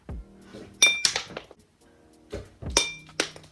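Glassware clinks and knocks as a drinking glass is swapped out, giving two clusters of bright rattling contacts with softer thuds between them, close and moderately loud, with no talking.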